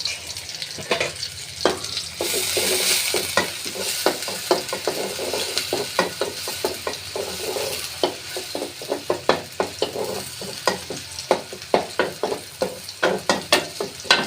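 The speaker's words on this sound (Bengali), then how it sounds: "এখানে পেঁয়াজ নাড়তে হবে যাতে পুড়ে না যায়।" Sliced onions fry in hot oil with bay leaf, green cardamom and cinnamon, a steady close sizzle broken by frequent sharp scraping taps of a spatula stirring the pan in a quick irregular rhythm.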